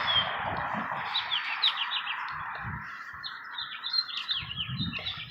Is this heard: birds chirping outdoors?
yes